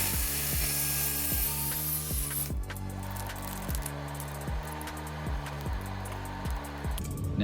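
Ratcheting, evenly spaced clicks carry on steadily and close by as 1.5-inch EMT conduit is cut to length, with a brief shift in texture partway through.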